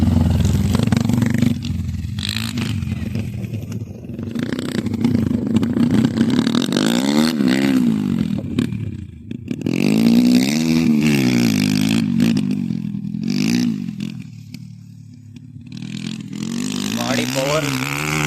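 Off-road motorcycles, an Impulse and an Xpulse 200, rev and accelerate during dirt practice, their engines rising and falling over several seconds while someone talks over much of it.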